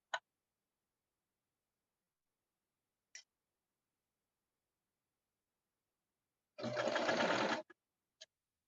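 A sewing machine runs one short, close burst of about a second while stitching the underarm seam of a bell sleeve, set between a few sharp isolated clicks and near silence.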